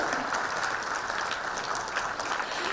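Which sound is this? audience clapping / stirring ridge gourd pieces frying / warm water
audience clapping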